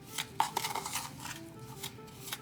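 Bath bomb ingredients are stirred with grapeseed oil in a bowl, producing quiet, uneven scraping and tapping strokes over a couple of seconds.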